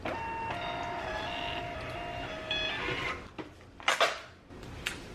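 A thermal label printer prints a shipping label with a steady, high motorized whine for about three seconds. Then come a few louder paper-feed rustles and clicks, heard up close with no talking.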